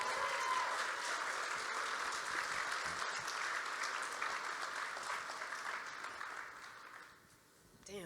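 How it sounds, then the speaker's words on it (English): Applause from a convention audience at a fan event interview, steady and dense for about seven seconds before tapering off, with a brief burst returning at the end. "We can clap for that."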